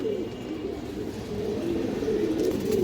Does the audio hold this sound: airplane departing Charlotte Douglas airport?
no